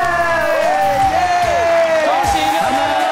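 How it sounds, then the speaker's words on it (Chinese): A studio audience applauds and cheers loudly, with whoops and bright whistling tones riding over a dense wash of clapping, steady and close throughout. "最后我们就要再次掌声恭喜我们的 六六六六"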